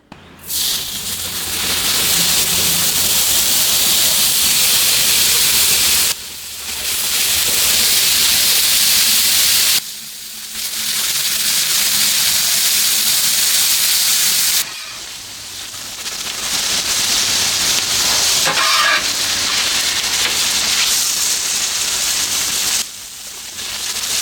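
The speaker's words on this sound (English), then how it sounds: "we are getting down to the end of cooking this ground beef" Ground beef sizzles on a Blackstone griddle with a loud, steady hissing fry that stays continuous across the stretch, interrupted by a few brief dips and pauses.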